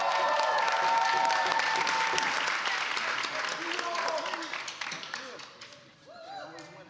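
Audience at a startup showcase clapping and cheering for a prize winner, loud dense applause that gradually fades while voices talk over it in the final seconds.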